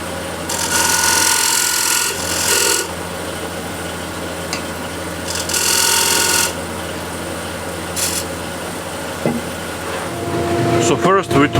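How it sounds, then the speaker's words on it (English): An electric drill sanding a turned walnut or cherry wood plate with 180-grit paper gives a steady, loud abrasive whir with surges of harsher rasping, close up and continuous, with a few clicks near the end. "then I use the drill to sand the ball part here and the wings here"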